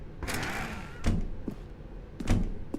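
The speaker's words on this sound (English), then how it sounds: "Stanley walked through the red door." A door opens in The Stanley Parable video game with a mechanical clunk and creak, sounding as a few distinct near thumps spread over a steady room-tone background.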